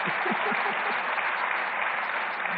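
Steady applause from an audience at a Delhi government political event, continuous dense clapping throughout, fairly loud and close with no talk over it.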